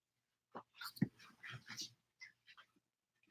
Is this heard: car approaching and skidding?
no